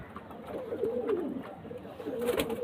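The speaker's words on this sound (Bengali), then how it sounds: "এটা হচ্ছে কালশিরা কামাগার পায়রা" Soft, throaty coos from a female Kalshira Kamagar pigeon repeat in a low rolling rhythm, close by, with faint background noise.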